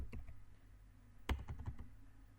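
Close-up computer keyboard typing while code is written, a few quick keystrokes, then a brief cluster of sharper clicks, moderately loud against a quiet room with no voices.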